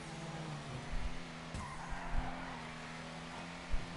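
A car driving in Grand Theft Auto Online, its engine humming steadily while tires skid and squeal in short bursts, with a few thumps from rough ground.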